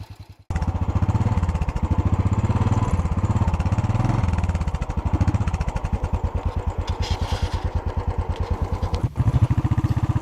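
A Royal Enfield motorcycle engine on a birthday ride in Spain runs loud and close, with a steady, throbbing thump that shifts pitch as the revs rise and fall, then settles into an even, rhythmic idle-like beat.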